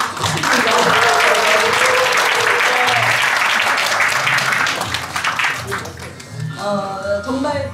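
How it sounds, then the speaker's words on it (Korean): Loud, close applause from guests at a university graduate school's year-end alumni gathering fills several seconds, then tapers off as a voice starts speaking near the end. "사무총장께 다시 한번 저 박수 좀 한번 부탁드립니다"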